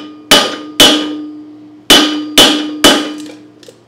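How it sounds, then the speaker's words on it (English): Hammer strikes a flywheel bolt on a Kawasaki FJ180V engine, five sharp metallic whacks in two groups with ringing decay, close and loud, followed by a faint rattle. "I'm just going to give the flywheel bolt a couple whacks with a hammer."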